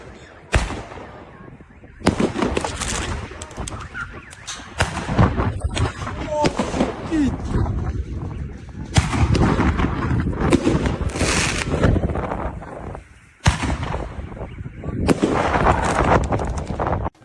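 New Year fireworks salute bursts go off in repeated loud, sharp cracks and booming blasts, clustered in bursts with short quieter gaps between them, close by and dominating the scene.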